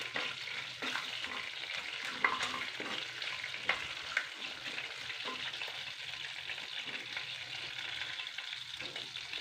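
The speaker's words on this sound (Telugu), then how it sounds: "ఆవాలు ఒక్క నిమిషం వేగాలండి" Mustard seeds fry in hot oil for tempering a chicken curry, giving a steady sizzle and hiss with scattered sharp pops and crackles. It runs nearby at moderate loudness, with no talking.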